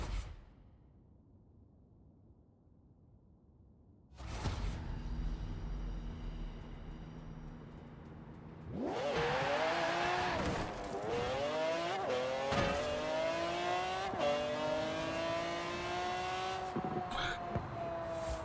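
F1 GT car engine in the racing game Forza Horizon 4: a quiet start, then a steady engine drone that swells to a loud, revving roar with rising pitch as the car accelerates, plus brief sharp clicks.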